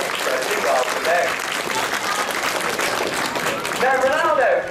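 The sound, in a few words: audience applause at zoo bird show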